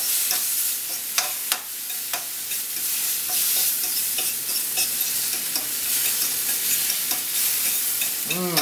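Food for chicken Marsala stirred around a frying pan, a steady sizzle with repeated scraping strokes and light clinks from the utensil, close and continuous with no talking.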